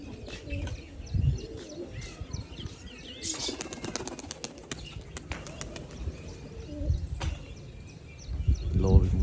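Pigeons burst into flight with a flurry of flapping wings, followed by soft cooing, while a person talks and calls out nearby.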